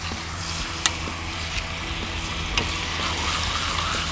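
New York strip steaks sizzle steadily on a hot Blackstone griddle, a continuous close frying hiss with a few sharp clicks from flipping, no talking.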